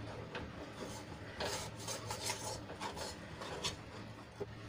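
Millet flour is stirred in a pan over a very low flame, a soft close scraping and rubbing in uneven strokes, faint and with no other sound over it.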